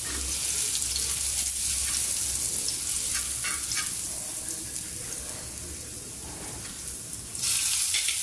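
Garlic and lemongrass fry in hot oil in a pan, a steady broadband sizzle that carries on without break and is heard close up with no voices.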